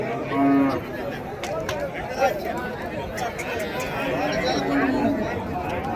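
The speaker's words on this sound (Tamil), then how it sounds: "நல்ல பெரிய பெரிய காளைங்க" Bulls at a Friday cattle market in Uthangarai, with low moos and lowing over a steady hum of crowd chatter and nearby talk.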